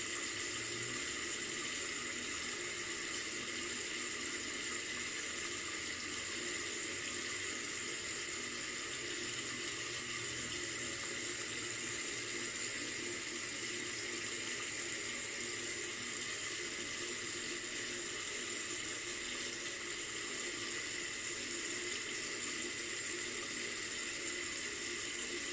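Cold tap water runs steadily into a sink to rinse a shavette razor, a continuous even hiss that stays at a constant level for the whole stretch, with no talking.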